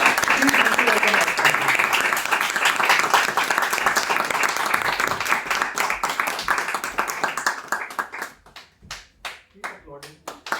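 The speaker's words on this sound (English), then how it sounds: "Keep applauding." An audience at a Toastmasters farewell session applauding, a dense, sustained round of clapping that gradually thins into a few scattered claps, with a voice speaking over the tail.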